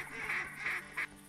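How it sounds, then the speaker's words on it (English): Mallard ducks in the hunting game TheHunter Classic give three nasal quacks in quick succession, moderately close and clear with no talk over them. "Looks like two drakes and a bunch of hens."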